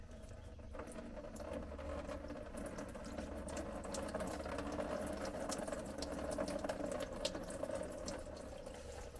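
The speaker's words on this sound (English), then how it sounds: "I'm gonna let the water down from the engine block" Coolant runs from the drain plug at the low point of a Wartburg engine block, a steady trickling, pattering flow of water that holds at an even moderate level from start to finish with no talk.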